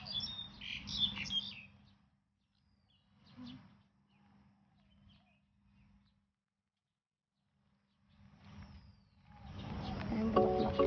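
Small birds chirp and tweet in an outdoor park, bursts of calls at the start and again near the end with quieter gaps between, over low traffic rumble in the distance.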